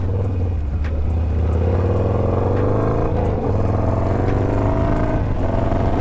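A car on a Sunday drive with its engine holding a steady, loud drone throughout and no speech over it.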